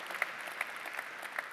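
An audience at a Party of European Socialists leaders' conference claps, a faint, thin spatter of scattered hand claps at a distance in a large hall.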